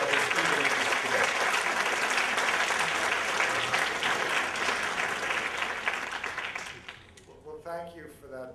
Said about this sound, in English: thank you for that polite applause